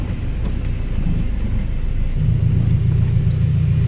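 Turbocharged Honda Accord engine idling, a deep steady low rumble that swells slightly louder partway through, close by and without talk.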